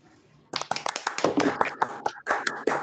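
A small group at a lecture claps for a few seconds, starting abruptly and holding a brisk, uneven patter of close hand claps.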